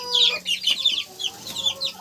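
Goslings and chicks huddle under a red heat lamp, chirping and peeping in a busy, overlapping stream of short high calls, close by and fairly loud.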